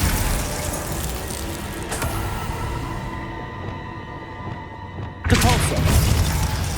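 Glacius ice spell cast in Hogwarts Legacy, a bright shattering crack with a booming burst that surges loud near the end after a dense stretch of spell effects.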